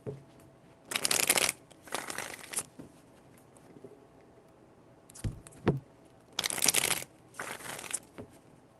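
Tarot cards being shuffled in quick riffling bursts, two close together, a pause, then a short one and two more, close and crisp, no talking.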